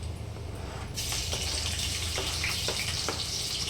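Garlic drops into hot oil with mustard seeds and erupts into a loud, steady hiss about a second in, with a few soft crackles and pops scattered through the sizzle.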